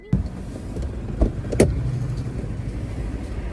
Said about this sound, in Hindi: आओ, मैं गाड़ी मोड़ रहा हूँ।